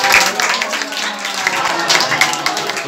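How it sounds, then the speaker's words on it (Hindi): Dense audience applause and clapping welcomes a guest onto a show, loud and sustained throughout with scattered sharper claps. "अभी आपकी भरपूर तालियों में भी हाजिर होती है"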